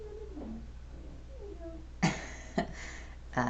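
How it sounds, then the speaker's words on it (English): Domestic cats in a home office give a few faint, brief meows, followed by three sharp, louder bursts of noise close by. "those are my cats"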